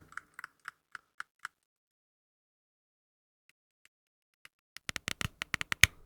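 Buttons on a Retroid Pocket 4 Pro handheld are pressed close up: a steady series of crisp clicks, a pause, then a faster burst of sharp, louder clicks near the end.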